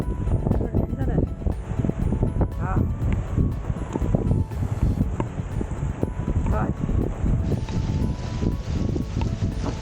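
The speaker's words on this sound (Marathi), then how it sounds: "खतरनाक हवा आहे." Strong wind on a monsoon mountain road at Kashedi Ghat, roaring and buffeting the microphone loudly and continuously, with faint rustling and clatter underneath.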